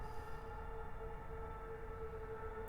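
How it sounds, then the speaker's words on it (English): Distant train rumble drones with a steady tonal hum in the video game Pools, a low, continuous ambient rail sound with no train passing. "You can sort of hear train noises, but no train comes."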